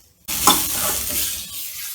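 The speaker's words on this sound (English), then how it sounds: "Now I am adding some curry leaves in" Curry leaves drop into hot oil in a pan for poha upma, bursting into a sudden loud sizzle that spits sharply at first, then settles into steady frying crackle.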